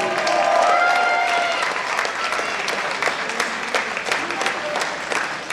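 Sustained applause from a crowd at a table tennis match, dense clapping throughout with a few voices calling out in the mix.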